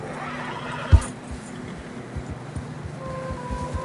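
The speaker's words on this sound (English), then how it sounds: "horses are struggling" Horses in Red Dead Redemption 2 give a loud, close whinny while struggling through deep fresh snow, followed by soft hoof thuds and a low wind-like background.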